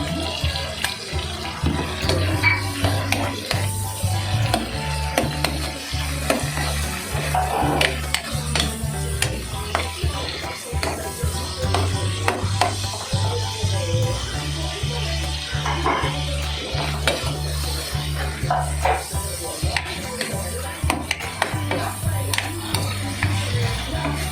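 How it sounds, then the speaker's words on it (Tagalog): Shrimp stir-fry in a pan, a dense ongoing sizzle with constant scraping and clattering of a utensil against the metal, close and fairly loud throughout. "pwede na natin ilagay yung ating hipon"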